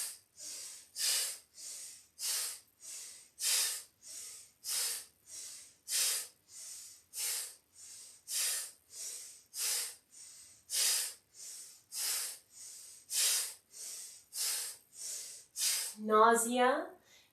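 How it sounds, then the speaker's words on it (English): Forceful rhythmic breathing in and out through the nose during a yoga session, about two dozen sharp, evenly spaced bursts close up, ending with a brief voiced sound. "Keep breathing forcefully in and out of the nose."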